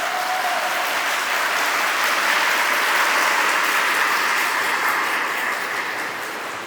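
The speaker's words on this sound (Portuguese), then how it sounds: "eu queria uma salva de palmas para eles" Applause from a large audience at a Spiritist conference, a dense, continuous roar of clapping hands that holds steady and loud throughout, easing slightly toward the end.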